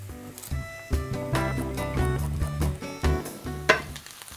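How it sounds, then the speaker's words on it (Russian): Onions sizzle as they fry in butter in a pan, a steady crackling hiss with tonal background sounds running beneath it. "На сковороду отправляется масло. Лук доводим до полупрозрачности."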